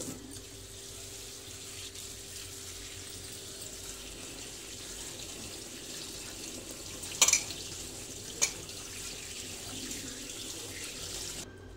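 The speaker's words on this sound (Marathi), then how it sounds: "पोहे करण्याच्या आधी धुवून ठेवायचे" Poha, flattened rice, being rinsed with running water in a sink for aloo poha, a steady faint splash and trickle throughout with two brief louder clinks near the end.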